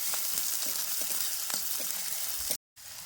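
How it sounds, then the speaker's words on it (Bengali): Chopped onion and green chilies frying in oil produce a steady close sizzle with small crackles and stirring taps, cut by a brief silent gap near the end before the frying resumes. "পেঁয়াজ আর লঙ্কা আধা ভাজা হয়ে গেছে"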